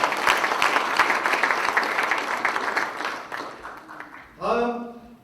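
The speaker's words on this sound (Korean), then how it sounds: "이해찬 당대표님께 다시 한번 큰 박수 부탁드립니다" A large audience at a 2019 Democratic Party training event for local government heads gives sustained applause that gradually thins out, then a voice begins speaking over the last of it.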